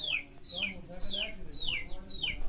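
Village chickens and chicks cluck and chirp repeatedly up close, a run of bright descending peeps over steady fowl chatter with a low rumble beneath.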